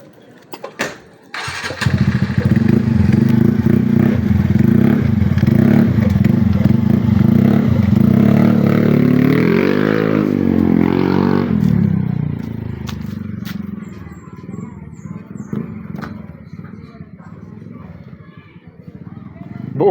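A TVS Ntorq 125 scooter engine with a newly fitted exhaust pipe starts and revs steadily, rising to a higher-pitched rev around the middle before settling to idle, with clattering mechanical noise and occasional background sounds.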